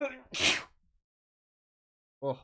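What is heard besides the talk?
sneeze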